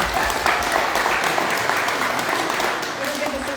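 Audience applause at a community partners event for a trail from Calgary to Cochrane, a steady burst of clapping lasting throughout with a voice talking over it.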